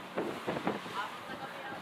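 Strong wind buffets the microphone over a low engine-and-water drone aboard a fishing boat running at about 9 knots near Scarborough Shoal at dusk, with faint muffled voices underneath.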